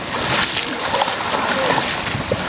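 Water splashing and sloshing as someone churns it by hand, heard up close as a continuous rough wash with voices talking over it.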